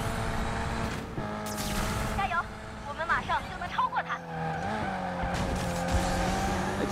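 Car engine and tire squeal in the Need for Speed Mobile racing game, with revving and sliding squeals over a steady engine tone, while someone talks over it in bursts.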